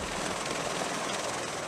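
Green-and-white presidential helicopters, the white tops, fly past with a steady, loud, broadband rotor and engine roar that holds constant throughout, with no voices.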